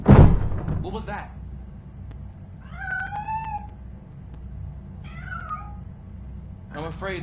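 A cat meows several times, close and clear, with rising and falling cries spaced a second or two apart after a loud opening thump, over a low steady hum with speech around it.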